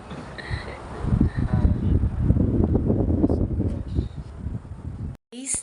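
Air from an electric fan buffets a microphone indoors, producing a steady low rumbling roar with gusty swells that cuts off abruptly near the end.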